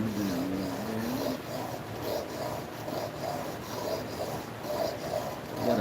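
A narrow chisel is rubbed back and forth on a 1000 grit sharpening stone in a late-night session, steady rasping strokes repeating evenly at close range with no voices.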